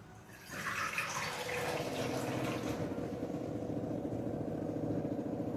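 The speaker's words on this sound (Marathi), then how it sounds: "1 वाटी मी पाणी घालत आहे." One bowlful of water is poured steadily from a small bowl into a cooking mixture from about half a second on, a continuous close gurgling splash with no voices.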